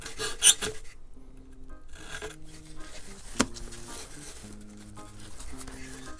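Edges of a balsa wing tip on a vintage Barnstormer 25S RC plane being trimmed: light rasping, rubbing strokes with one sharp tap, under soft tonal background sound.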